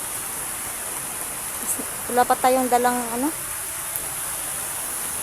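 Heavy rain falling steadily outdoors, a dense even hiss throughout, with a person speaking briefly in the middle.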